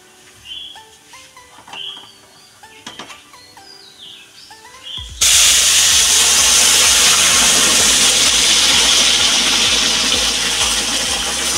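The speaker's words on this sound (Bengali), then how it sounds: "আমার জলটাও ফুটে গেছে।" Water boiling in a pot on a gas stove while pulao is being cooked. Quiet clinks and birdsong come first, then a loud, steady bubbling hiss starts abruptly and continues to the end.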